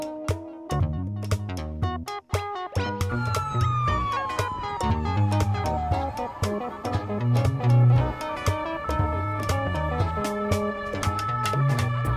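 A police car siren wails in a rising and falling sweep, mixed into a bouncy, rhythmic children's music track that plays throughout.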